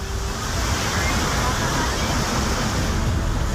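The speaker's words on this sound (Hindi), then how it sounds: "ध्यान मुद्रा में बैठे महादेव की मूर्ति के चारों ओर गंगा की लहरें तांडव मचाती हुई बह रही हैं।" The Ganges river at Rishikesh, swollen in flood after heavy rain, surges with a constant, loud roar of rushing water and waves. Nothing else is heard over the steady wash of the current.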